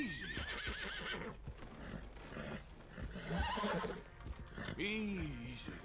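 A horse in Red Dead Redemption 2 neighs and whinnies repeatedly with clip-clop hoofbeats, agitated and close, mixed with someone talking throughout.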